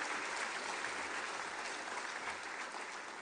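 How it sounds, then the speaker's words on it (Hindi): Audience members at a Sikkim University convocation in Gangtok applaud, a steady, even sheet of clapping heard from a distance that tapers slightly toward the end. "थोड़ा ताली हो जाए"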